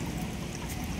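Water flows steadily at a temple, a continuous rushing, splashing wash close by with no pauses.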